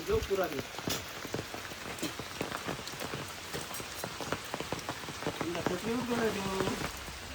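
Rain patters steadily on surfaces around a farmhouse, a dense, continuous drumming of drops close by, with people talking over it at times.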